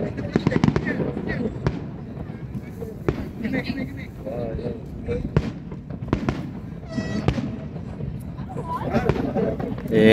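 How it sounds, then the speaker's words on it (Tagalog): Fireworks burst and crackle over Waikiki Beach in irregular pops and booms, some loud and close, over a crowd murmuring and talking throughout. "Ayan, itong fireworks na to."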